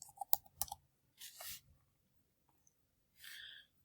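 A computer keyboard key is pressed: a quick cluster of sharp, close clicks at the start, followed by a few soft rustling sounds in an otherwise quiet room.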